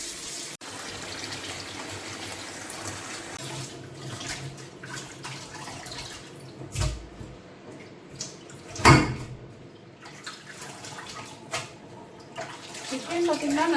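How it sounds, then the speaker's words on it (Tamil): Chicken for homemade dog food is washed under a running kitchen tap, with steady trickling water interrupted by louder splashes and gushes as the meat is handled and rinsed. "வாஷ் பண்ணிவிட்டு ரன்னிங் வாட்டர்லேயே நம்ம எடுத்து நல்லா வாஷ் பண்ணிட்டோம்னாலே போதும்."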